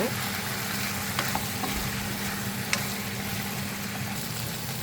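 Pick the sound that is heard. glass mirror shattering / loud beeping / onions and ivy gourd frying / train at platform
onions and ivy gourd frying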